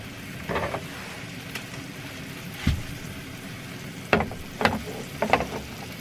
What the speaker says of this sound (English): Just because I want to hear it sizzle.